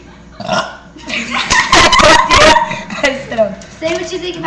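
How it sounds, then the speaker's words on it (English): A long, loud burp rolls out over about two seconds, joined by voices and laughter before and after it. "I fixed the burp."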